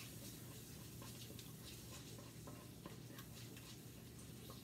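Garlic being stirred into olive oil in a pan for a pasta and pizza sauce gives a steady close sizzle, with light scraping and ticks of the utensil throughout.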